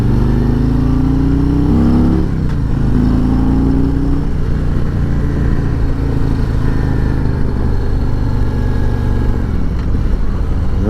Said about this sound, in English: I open up the throttle, the bike just takes off.